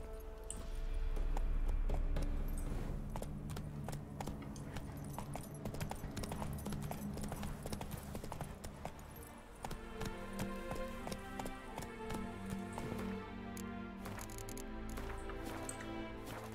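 Horse hooves clip-clop in The Witcher 3, a steady moderate patter continuing through the whole stretch beneath dense game music and ambience, with no voices.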